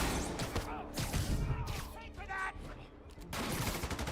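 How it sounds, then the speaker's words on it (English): A sniper rifle shot in Marvel's Spider-Man, a sharp crack amid a burst of rapid gunfire and thuds, followed by a quieter stretch and another loud blast near the end, with game sounds layered throughout. "Ow, that sniper round hurt."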